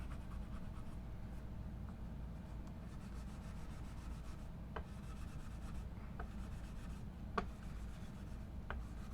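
Steady, faint scratchy rubbing of 180 grit sandpaper on the frets of an Epiphone Les Paul Standard Pro guitar, with a few small ticks.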